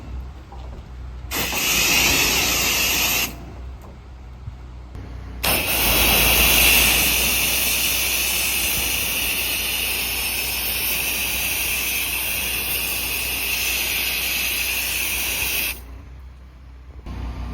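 A pressure washer sprays a deck in long, loud hissing bursts over a steady engine hum, with a short spray, a pause, then one sustained rinse before cutting off.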